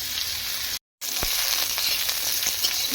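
Drumsticks sizzling steadily in hot oil with curry leaves and spices in a pan, a continuous close crackle broken by a brief dropout, with scattered pops and stirring clicks.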